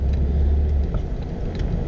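A 2006 Buick Lucerne out on a test drive after a front brake and rotor replacement, giving a steady low engine and road rumble from inside the cabin with no speech.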